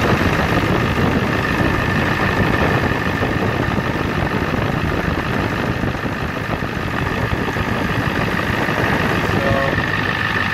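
A Ford 6.9/7.3 IDI diesel engine idles with fuel pressure running high, a steady, loud, unbroken rumble heard up close with no talking over it.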